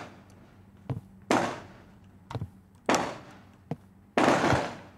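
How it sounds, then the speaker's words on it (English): Fireworks popping outside in a video game, three booming bursts with fading tails, each preceded by a sharp crack, spaced about a second and a half apart. "They're just popping fireworks."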